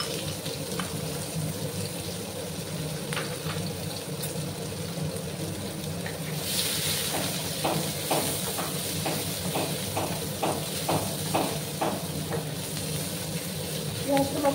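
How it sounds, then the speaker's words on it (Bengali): Chopped onions frying in oil for a Bengali rui fish chorchori, a steady soft sizzle with a run of light spoon or spatula taps while stirring in the pan. "পেঁয়াজগুলোকে আমি লাল লাল করে ভেজে নেব।"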